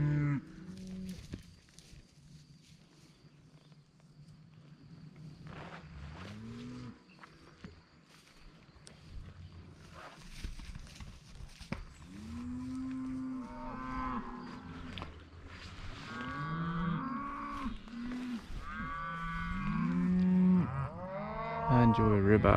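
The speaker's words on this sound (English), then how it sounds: "These cows are an absolute nightmare." Cattle in a Nebraska pasture moo repeatedly, several drawn-out calls from close and farther animals overlapping, growing louder and more frequent toward the end over a steady outdoor background.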